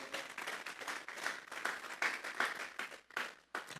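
A church congregation applauds together, a dense steady patter of many hands with brief swells and dips, fairly far from the listener, with no speech over it.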